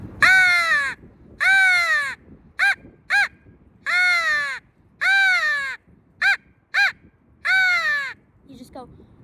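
A voice imitates a crow with a crow call, giving loud, harsh caws in short bursts, some long and drawn out, others quick doubled clipped calls, close and alone.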